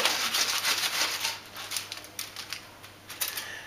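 A knife slices through a cooked wild pork steak on a cutting board, giving a run of close, soft scraping strokes that fade and return in an uneven rhythm, with no voices.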